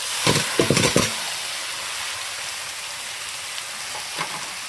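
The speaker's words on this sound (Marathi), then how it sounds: "आपला कांदा एकदम असा लालसर झाला आहे आणि आता आपण टाकणार आहे भाजी" Leafy vegetables drop into a pan of reddened frying onions, with a burst of loud clattering and stirring at first, then a steady, even sizzle that continues on its own.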